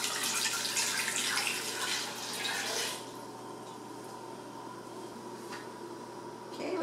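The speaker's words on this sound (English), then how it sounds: "We're gonna add our carrots and then some water" Water runs from a tap into a pressure cooker holding carrots and squirrel meat, a bright close splashing stream that stops after about three seconds, leaving a quiet hum with faint drips and clinks.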